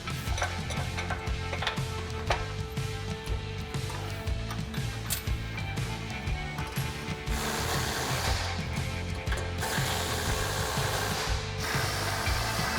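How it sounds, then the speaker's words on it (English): A ratchet bolts new front suspension parts onto a 1968 Chevrolet C10 in a dense, rhythmic stream of clicks that continues through the whole stretch and grows louder toward the end. "I just love bolting on shiny new stuff."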